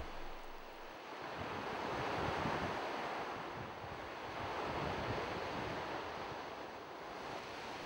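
Sea tide surges into the dried former riverbed of the Colorado near its mouth. The roar of surf and water is broad and continuous, swelling and easing with wind noise over it, and no voices are heard.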